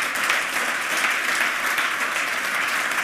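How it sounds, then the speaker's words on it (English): A conference audience gives a talk at the 27C3 hacker congress sustained applause, a dense, even wash of clapping from many hands that holds steady throughout. "let's give the speaker another round of applause"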